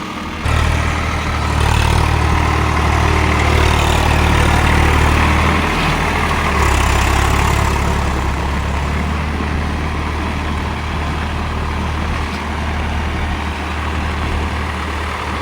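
A Swaraj 744 XT tractor works a field with a rotavator in third gear in the rain, its heavy diesel engine droning loud and close in a steady low rumble that shifts slightly in pitch as the load changes.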